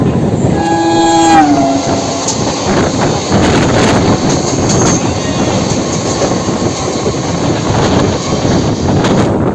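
A Howrah-Bandel local train pulls into Uttarpara station in Hooghly district: a loud horn blast near the start, then continuous close rumble and clatter of wheels and carriages running on for several seconds, with no talking.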